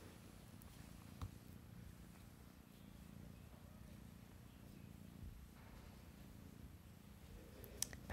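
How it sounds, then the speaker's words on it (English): A tabby tuxedo cat purrs continuously up close, a soft, steady low rumble with a couple of faint clicks. "Purring nonstop."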